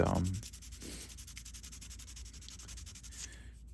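A resin and wood knife handle is hand sanded with fine 400-grit paper, giving a steady, soft rhythmic rasp of short strokes, quiet and close, after a brief louder scrape at the start.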